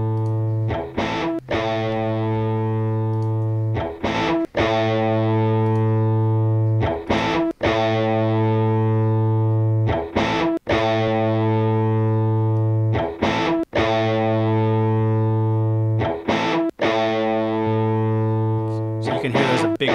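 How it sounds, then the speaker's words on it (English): A distorted electric guitar track from a mix being EQed repeats a sustained chord pattern, each chord cut by a short break, loud and steady with no talking. "So let's go to the first guitar here."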